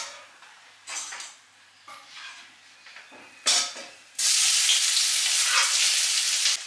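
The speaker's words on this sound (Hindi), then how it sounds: "जब तक प्याज फ्राई हो रहा है" Onions sizzle and fry in a pan at home, with a few clinks and stirring sounds before a loud, steady hiss of frying takes over.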